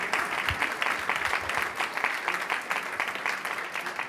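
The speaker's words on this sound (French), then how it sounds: "je pense que vous pouvez applaudir donc François Fontès et Jean Nouvel" Audience applause at an architects' congress debate, a steady wash of many hands clapping that stays dense and even for the whole stretch, with no talk over it.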